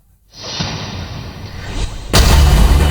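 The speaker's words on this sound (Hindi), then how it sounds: "बीजेपी दफ्तर में जमकर आतिशबाजी की गई" Celebratory fireworks go off at a party office: a rising whoosh builds for over a second, then a loud, close boom lands and its rumble carries on.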